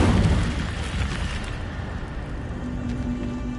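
A fire spell bursts in Hogwarts Legacy with a loud, dense whooshing roar at its start that settles into a sustained crackling rumble of flames.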